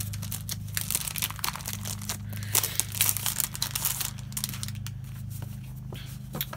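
Sheets of decorative paper from a paper pack are handled and shuffled up close, with repeated crisp crinkles, rustles and snaps in an irregular rhythm over a low steady hum.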